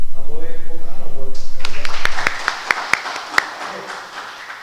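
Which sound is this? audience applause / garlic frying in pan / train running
audience applause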